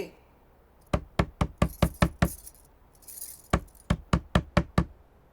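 Sharp knocks hit a wooden door in two quick bursts, about seven raps, a short pause, then six more, loud and close with a faint voice between the bursts.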